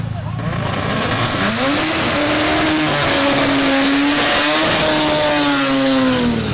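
Turbocharged four-cylinder car engine making 460 wheel horsepower, revving loud and close with a steady rising and falling drone, its pitch climbing and holding across the run without pause.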